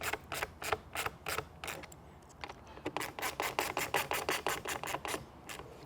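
A 4 mm hex tool snugs a fastener into plastic on a K&N air intake for a 2016-2023 Toyota Tacoma, quiet rapid ratcheting clicks in short close bursts, a brief pause, then a faster run.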